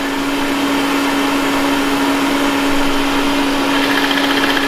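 Ecovacs Deebot Ozmo T8 robot vacuum cleaning, a steady loud whirring motor hum with a constant tonal whine and broadband suction hiss, running continuously and close by with no talk.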